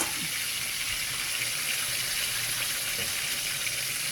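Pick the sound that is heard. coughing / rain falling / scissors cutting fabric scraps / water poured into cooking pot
water poured into cooking pot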